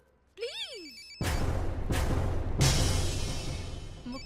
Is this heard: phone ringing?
yes